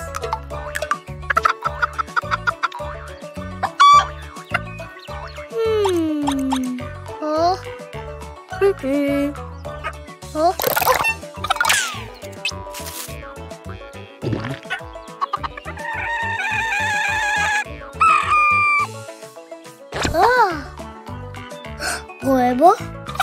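Repeated cartoon chick clucks and squawks over a busy, playful background, with a voice chattering now and then.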